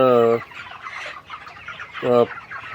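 Broiler chickens about 35 days old crowded together on a poultry farm, two loud close clucks standing out over a continuous murmur of the flock.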